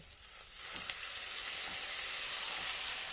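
Spice masala with chilli, turmeric and a splash of water frying in oil in a pan, a steady close hiss and sizzle with faint stirring scrapes throughout.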